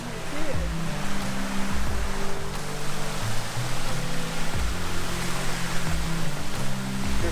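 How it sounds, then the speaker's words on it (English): A small waterfall pours in a steady, broadband rush of falling water, with people talking intermittently over it. "A little waterfall down here too"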